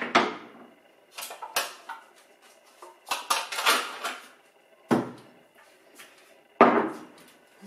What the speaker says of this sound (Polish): Wrzucam miętę. Wrzucam czosnek.